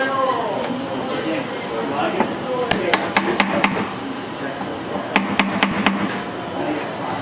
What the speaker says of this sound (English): And we can hammer them down with dowel.